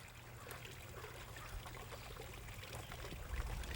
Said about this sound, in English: I hear water up ahead